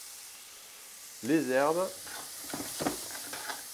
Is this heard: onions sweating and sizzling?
yes